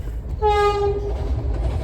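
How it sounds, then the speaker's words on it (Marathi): A Vande Bharat train sounds a loud, steady horn blast as it pulls into a station, with the low rumble of rolling wheels continuing underneath after the horn stops. "हांगासर ट्रेन बी आयली"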